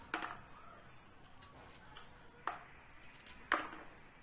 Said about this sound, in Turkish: Soğanı da yine şu kısmını alalım. Şöyle yan yan doğrayacağım.